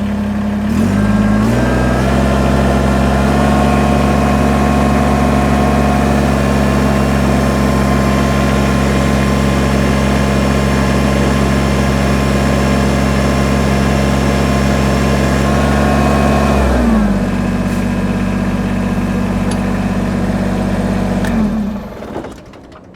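A Kubota BX compact tractor's engine runs loud and close at a steady idle, rising slightly in pitch as it loads up partway through, then settling back before cutting off near the end.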